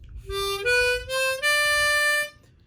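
A harmonica plays four clear notes in a stepping blues riff, blow 3, draw 3, blow 4, draw 4, each held briefly, moving upward in pitch, solo and close.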